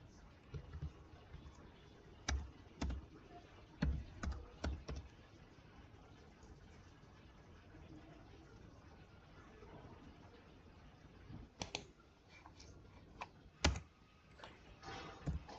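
Numbers are typed on a computer keyboard while drawing in AutoCAD: quiet bursts of quick key clicks with pauses between, in a still room.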